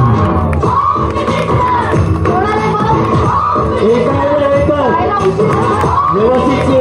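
A lively crowd at a village Home Minister women's game show cheers, whoops and claps steadily at close range, with children shouting and excited chatter mixed throughout the whole stretch.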